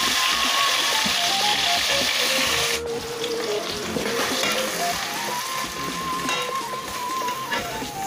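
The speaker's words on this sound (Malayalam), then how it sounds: "ഇനി ഇതിനകത്തേക്ക് തക്കാളി ഇട്ട് വഴറ്റാം" Tomatoes sauté in hot coconut oil for a homestyle chicken biryani, giving a steady, fairly loud hiss with faint tonal sounds beneath and a brief dip in level partway through.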